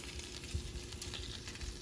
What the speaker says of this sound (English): Look at that. Sizzle, sizzle.